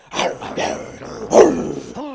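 A voice actor imitates a dog growling as the cartoon dog Diesel, with several rough, throaty growl bursts in quick succession, close and loud.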